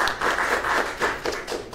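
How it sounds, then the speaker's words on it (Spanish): A small group claps for a photographer during a Spanish-language arts program, the claps coming in uneven bursts that rise and dip over a couple of seconds, fairly close and with no talk over them. "Un aplauso para la fotógrafa"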